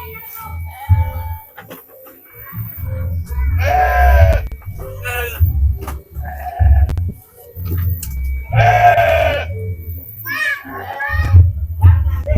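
Goats bleating at a rural village in Indonesia, several loud, wavering calls in bursts close by, with people talking and low rumbling in the background.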